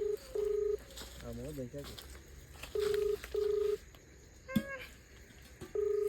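A mobile phone calling a friend, with a repeated ringback tone sounding in short regular bursts, interrupted by faint background chatter and a brief click.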